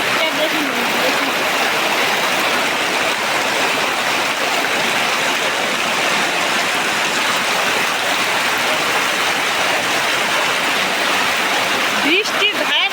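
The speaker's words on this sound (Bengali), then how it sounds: "বৃষ্টির ধারাটা দেখুন কত জোরে জোরে দেখুন। এতটা শব্দ হচ্ছে কথা বোঝা যাচ্ছে না।" Heavy rain pouring down under a dark sky near a small shop, a loud, dense and unbroken roar of falling water that continues throughout with no letup.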